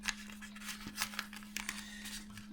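Paper is creased and folded up close for an origami CFA-44 Nosferatu fighter jet, quick crisp rustles and clicks in a busy irregular burst over a steady low hum.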